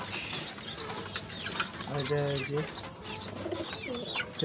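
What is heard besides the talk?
pigeons cooing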